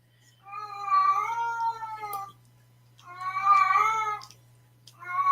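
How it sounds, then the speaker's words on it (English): A cat gives long, drawn-out, pleading meows, three in a row with short pauses between, close and clear over a faint low hum. "It's that desperation meow"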